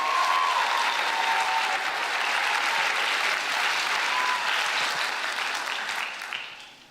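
Loud, wild cheering and clapping from a crowd at a school cat and rat parade, joined by children in cat costumes cheering for Hot Wheels, a continuous roar that holds strong before fading away at the end.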